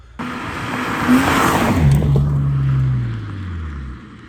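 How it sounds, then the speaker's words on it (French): A BMW E36 323i straight-six engine with a stainless exhaust revs up hard and roars past with a rasping exhaust note, then the pitch falls away as it recedes. "le bruit qu'elle fait avec l'inox, c'est vraiment le bruit d'origine de 36 M3"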